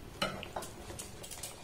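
Eggless cake batter is stirred in a steel bowl, soft wet scraping and light taps of the utensil against the metal, faint and close, in a few quick strokes.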